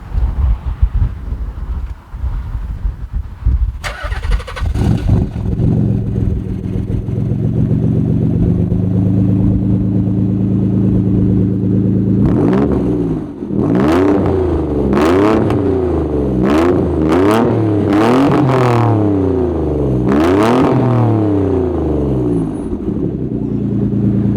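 Nissan 300ZX engine cranks and fires up, then idles loudly before a series of sharp, repeated revs climbing and dropping, very close and loud with some wind buffeting on the microphone.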